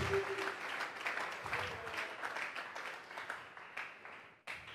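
A church congregation claps in unison as an offering of praise during a Bible doctrine service, a steady wash of applause with one faint voice that fades and breaks off near the end.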